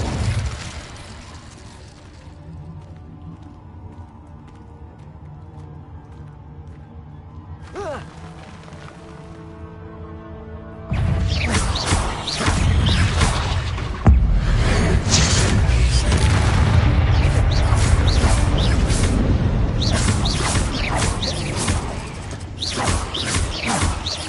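Incendio fire spell cast in the Hogwarts Legacy video game: after quiet creaking game ambience and a short tonal swell, a loud roaring burst of flame erupts and keeps rushing and crackling to the end.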